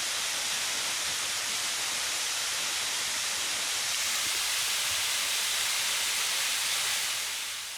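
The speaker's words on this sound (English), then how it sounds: "We've got our own private waterfall." A waterfall near a mooring bay rushes in a steady, loud, hissing roar that stays even throughout and fades slightly at the end, with no voices over it.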